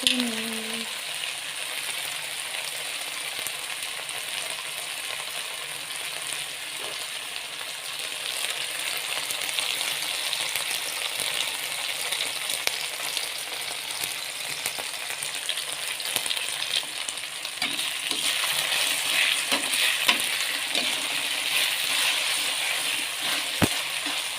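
Ginger and turmeric sauté in hot oil in a pan for Betawi-style pesmol mujair fish, giving a steady, close, dense sizzle for the whole stretch with occasional light stirring clicks and scrapes.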